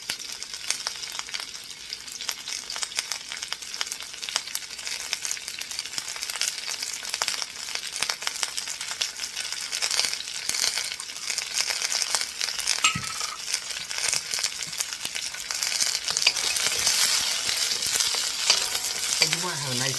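Vegetables for sweet and sour chicken sauté in a hot pan, giving a steady, loud sizzle and crackle throughout with occasional stirring scrapes and light clinks.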